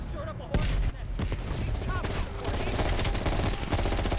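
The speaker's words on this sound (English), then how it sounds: "you followed the road right toward the sound of gunfire" Gunfire in the Black Ops Cold War video game: a dense, loud firefight of overlapping automatic bursts and single shots with M16-style rifles, sharp cracks cutting through continuously, with faint voices mixed in.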